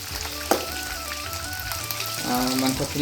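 Chicken pieces fry in oil in a pan, giving a continuous crackling sizzle with a few sharp pops and stirring sounds. The sizzle is close and moderately loud throughout.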